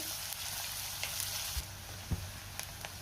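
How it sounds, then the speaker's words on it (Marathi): Onion frying in two spoons of hot oil, stirred until pink, produces a constant close hiss and sizzle with a few light spatula taps scattered through. "तेल गरम झाले, त्यामध्ये आपण कांदा घालूया आणि कांदा आपण चांगला गुलाबी रंगावर परतून घेऊया"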